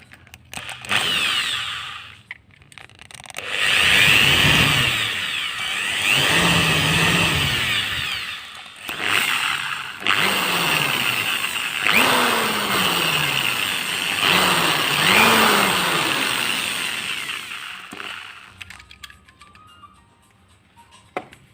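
Power drill boring out the rivets on a small diecast Tomica toy car, a loud whining drill run in repeated bursts with brief pauses, the motor pitch sagging as it bites into the metal.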